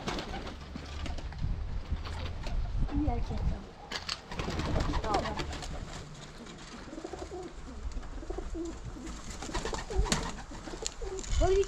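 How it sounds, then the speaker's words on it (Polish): Pigeons in a loft with an aviary coo repeatedly in the background, low and steady, while a person speaks briefly over them. "gołębie."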